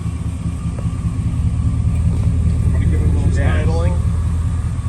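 A 1989 Chevrolet Suburban from a junkyard idles with a deep, steady low rumble close by, and a voice talks briefly over it toward the end.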